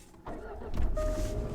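Jaguar XE 30t starting up as the flush-hidden rotary gear selector motors up from the console, a short mechanical whir with a faint tone over the rising idle.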